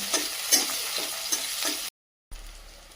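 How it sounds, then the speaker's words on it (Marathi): Onion sautéing in a pan sizzles steadily, with a rhythmic scrape of stirring every half second, then a brief silence before the frying resumes. "कांदा व्यवस्थित परतून घेऊया।"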